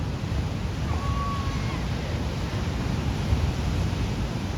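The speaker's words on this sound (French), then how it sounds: "Et là, comme par hasard, elles se sont calmées les vagues." Ocean waves wash on a beach in Bali as a steady, fairly soft broadband surf rumble with wind noise, continuous and without clear individual breaks.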